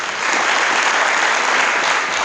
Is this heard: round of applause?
yes